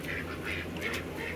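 An Indian runner duck quacking, several quick raspy calls in a row, close and fairly loud over a low background hum.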